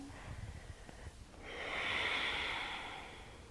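A long, soft exhale drawn out over a couple of seconds, rising and then fading, during a yoga move releasing back down from a hip-stability pose, close and quiet with no talking.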